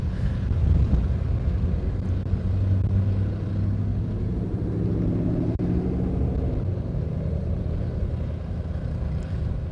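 A steady low roar of wind buffeting outdoors at a road block near SpaceX Starbase, Boca Chica, Texas, constant and loud, with a deep rumble underneath and no voices.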